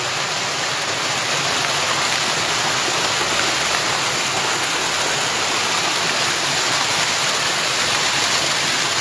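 Floodwater pours down from a blocked drain in Kullu, Himachal Pradesh, a dense, unbroken roar of rushing water that stays loud and steady from start to finish.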